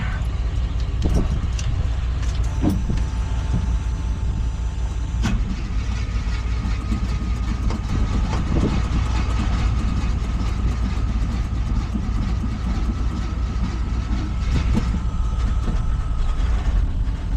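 A 1981 Chevrolet C20 Scottsdale truck engine idles steadily and close, running on its own fuel supply, with a few sharp clicks and knocks early on over the constant low rumble.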